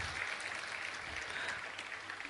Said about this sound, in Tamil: அதுக்கு நீங்க கண்டிப்பா ஒரு கரகோஷத்தை வந்து எழுப்பி ஆகணும்.